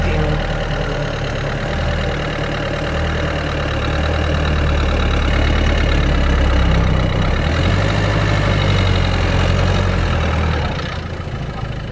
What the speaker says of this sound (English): I hope you guys have noticed the sound from the engine